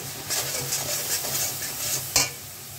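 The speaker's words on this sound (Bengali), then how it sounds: "দিয়ে দিলাম স্বাদ মতো লবণ আর চিনি দিয়ে মশলাটা কষিয়ে নিচ্ছি" Spice masala being sautéed with salt and sugar, a lively sizzle broken by repeated scraping strokes of a spatula in the pan and one sharper clatter near the end.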